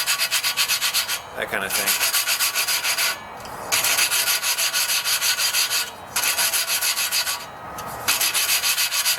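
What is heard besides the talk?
lapping air compressor valve into valve seat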